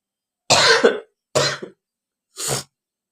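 Three separate coughs from one person in a quiet home kitchen, each a short harsh burst spaced about a second apart, close and fairly loud with silence between them.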